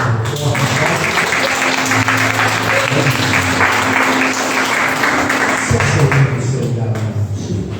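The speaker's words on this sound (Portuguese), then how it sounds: "Você pode aplaudir o Senhor." A church congregation claps during an evangelical service in Portuguese, loud close applause filling the room throughout, with music and voices mixed underneath.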